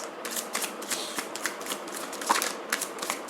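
Tarot cards being shuffled close up in a quiet room, a rapid riffling patter of soft card flicks over a few seconds with no voices.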